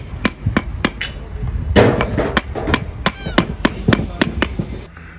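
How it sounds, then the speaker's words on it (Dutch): A street paver kneels and taps paving stones into place by hand with a hammer, a string of sharp, irregular knocks and clinks close by, over a steady hum of background noise at a worksite in Middelburg. "die zitten eigenlijk nog steeds toch op hun knieën te timmeren"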